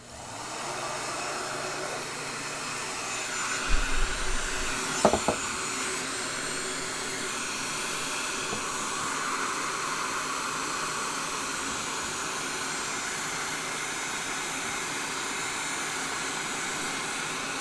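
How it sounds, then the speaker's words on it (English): A heat gun warming a PVC fitting so it can be bent, blowing a steady, loud airy roar that runs continuously from start to finish with a couple of brief clunks early on. "we'll use the heat gun to actually heat this up and get this to bend"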